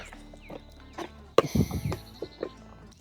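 A young male wild turkey, a jake, calls out in bursts of yelps and gobble-like notes during a spring turkey hunt, sounding near and fairly loud against a quiet outdoor background.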